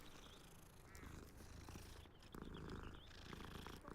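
Cats purring in a video game, a soft continuous purr with a faint meow, quiet and close, alone without any talk.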